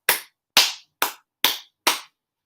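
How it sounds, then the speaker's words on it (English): Five sharp, evenly spaced hand claps ring out alone and close, each a crisp burst with a quick decay, part of a playful three-clap bit. "Gotta do the Halloween 3 clap"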